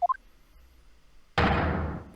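A single sharp wooden gavel knock in The Great Ace Attorney courtroom game, loud and sudden with a ringing tail, preceded by a couple of brief high tones and otherwise quiet.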